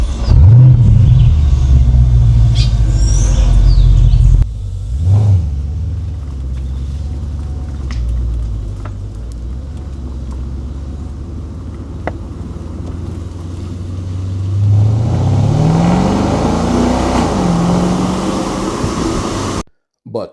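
A 2011 Porsche Panamera S with a naturally aspirated V8 starts with a turn of the key, then settles into a loud, close idle rumble that swells as the engine revs near the end.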